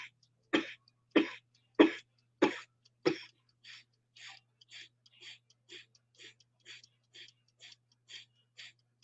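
A person coughs in a demonstration: five sharp, forceful coughs, then a long, evenly spaced run of softer, shorter bursts, close up with no talking.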